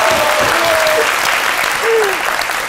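Loud crowd applause, thick and continuous, with cheering voices and a couple of short whistles cutting through the clapping.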